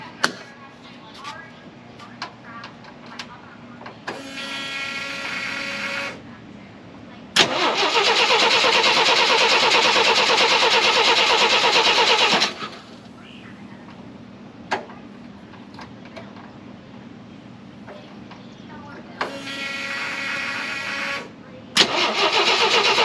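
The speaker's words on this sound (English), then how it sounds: "Alright, we're gonna go ahead and start it." A Jeep CJ5 fitted with an EFI kit and with its radiator cap off cranks and fires up. Several bursts of starter cranking are followed by a loud, steady run for about five seconds that then cuts off, with more cranking attempts later and a few clicks between.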